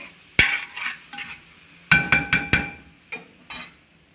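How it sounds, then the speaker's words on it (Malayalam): Beetroot thoran is stirred and mixed in a pan with a metal spoon, giving sharp clinking scrapes in uneven bursts, a quick cluster of knocks in the middle, close and clear with no talk. "നല്ലപോലെ ഇളക്കി മിക്സ് ചെയ്യുക"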